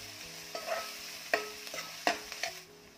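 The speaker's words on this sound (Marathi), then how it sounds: "कांदा भाजताना थोडं मीठ घालायचं, त्यामुळे कांदा पटकन भाजला जातो" Chopped onion fries with a pinch of salt in a pan for methi bhaji, making a quiet sizzle with a few distinct scraping stirs spaced about a second apart.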